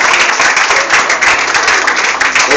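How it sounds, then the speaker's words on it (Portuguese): A church congregation claps in dense, loud, continuous applause, many hands together, steady for a few seconds. "Vamos dar uma salva de palmas aqui agora, Jesus."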